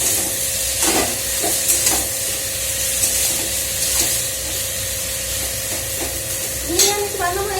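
Vegetable chow mein stirred in a hot pan, a steady sizzle and fry with repeated scraping strokes of the spoon spread through, and a brief louder clatter near the end.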